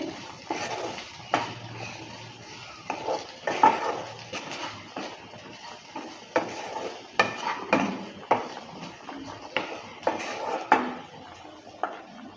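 Turmeric and Kashmiri chilli powder for squash ghonta stirred in a pan, a utensil clacking and scraping against the metal in uneven repeated strokes, close up and with no speech.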